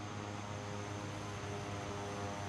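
Cabin-view engine drone of a Cessna SkyCourier aircraft in Microsoft Flight Simulator 2024, a constant loud hum with a steady low buzz that runs unbroken throughout.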